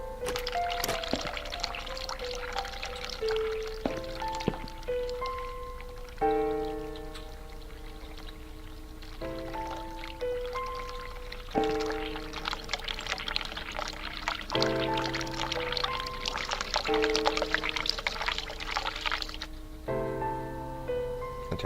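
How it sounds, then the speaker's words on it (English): Tap water runs in The Cat Lady game, a soft continuous pouring stream that sits low under layered tonal music notes, with no talk. "I turned off the water."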